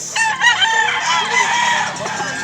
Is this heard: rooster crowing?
yes